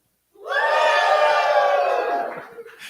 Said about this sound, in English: we have a big and enthusiastic crowd who are going to say things now about how excited they are to be here